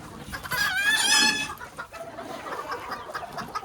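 Old English Game bantam chickens cluck and call close by, with a brief crow-like rising call early on, then softer scattered clucks and shuffling in a pen.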